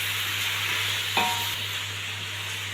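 Small whole onions frying in a pot, a steady soft sizzle with a low hum underneath and a brief stirring scrape partway through.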